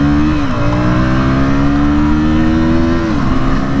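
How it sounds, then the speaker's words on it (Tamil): A KTM Duke 160 motorcycle engine revs loudly up close, its exhaust note climbing and holding steady before dropping, a continuous throaty roar. "உங்களுக்கு பைக்கோட எக்ஸாஸ்ட் சவுண்ட் கேட்குறீங்களா?"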